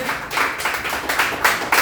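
A church congregation claps together in a quick, steady rhythm, several loud hand claps in under two seconds, close and lively.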